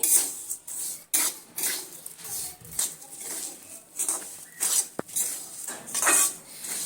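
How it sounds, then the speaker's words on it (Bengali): Semolina is stirred and roasted in a pan for halwa with the other ingredients, giving repeated close scraping strokes in an irregular rhythm with an occasional sharp metallic clink. "মিনিট 3 সময় নিয়ে আমি সুজিটা সমস্ত কিছু উপকরণের সঙ্গে এইভাবে নেড়ে চেড়ে আরো ভেজে নিচ্ছি"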